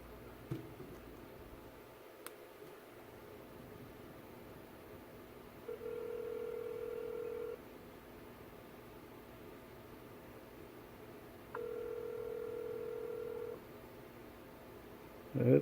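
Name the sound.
LEM4 Pro Android smartwatch placing a phone call, dialing tone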